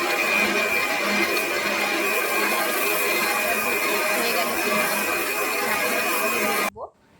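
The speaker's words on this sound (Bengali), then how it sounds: "মিক্সার ব্লেন্ডারের মধ্যে একদম ঢেকে নিয়ে আমি চলে" A kitchen mixer blender grinds ridge gourd peels with garlic and green chili, a loud steady whir that runs for several seconds and then cuts off abruptly.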